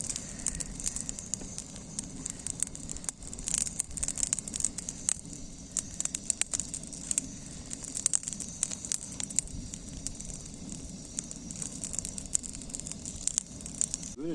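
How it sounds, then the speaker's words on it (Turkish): A campfire on a mountain camping trip burns steadily, with dense crackles and sharp pops over a low roar, close and continuous with no talk. "Bugün de böyle son gün bir ateşimizi yakalım, yakalım dedik."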